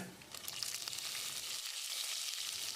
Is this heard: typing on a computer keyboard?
no